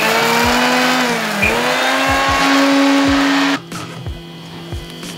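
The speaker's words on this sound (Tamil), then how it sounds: "முதல்ல இந்த சின்ன சீரகத்தை இந்த மிக்சியில் போட்டு நல்ல பவுடராக ஒரு அடித்து கொள்ளுவோம்" A kitchen mixer grinder powders cumin seeds with a loud, high motor whine broken by repeated rhythmic knocks, then the motor cuts off partway through and the sound winds down.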